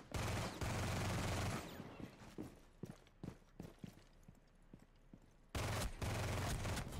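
Gunfire in a Rainbow Six Siege Operation Twin Shells match: dense bursts of automatic fire open and close the moment, with scattered single shots and footsteps in between, loud and close.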